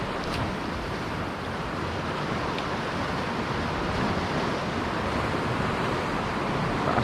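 Sea waves wash up onto a rocky shore fishing spot, a continuous broad rushing surge mixed with wind buffeting the microphone, loud and close throughout.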